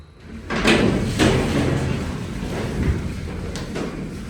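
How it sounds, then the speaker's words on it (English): Heavy doors of a vintage Dover hydraulic freight elevator at Harrington Tower slide open and shut, with loud thuds near the start and around one second, followed by a sustained rumbling rattle and a later clack. "See, I can easily open the doors."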